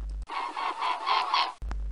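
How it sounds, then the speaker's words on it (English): A single drawn-out, nasal honking call from a mute swan, pulsing slightly in loudness, heard alone and fairly close. "Mute swan."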